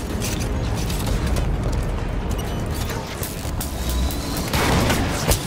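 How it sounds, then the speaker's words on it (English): In Halo 5: Guardians, an explosion booms amid a dense stretch of gunfire and mechanical combat noise, loud and sustained, with a sharper burst near the end. "Thought the explosion would be bigger."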